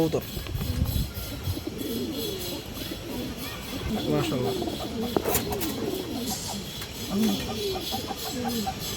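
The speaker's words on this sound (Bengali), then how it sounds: "কবুতর" Pigeons coo repeatedly in a busy loft, low murmuring calls overlapping, with someone talking over them and other birds clucking faintly.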